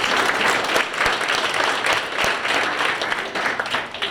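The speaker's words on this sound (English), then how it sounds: "go ahead and give him a round of applause." Audience applause fills a celebration event hall, steady dense clapping that holds at a fairly loud level from start to finish and tapers slightly near the end.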